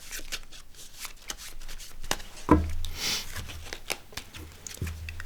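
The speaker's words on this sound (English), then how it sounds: "So we'll go ahead and shuffle this one," A deck of playing cards is shuffled close up, a fast fluttering riffle with rapid card flicks and a few soft taps as the deck is squared, in several bursts.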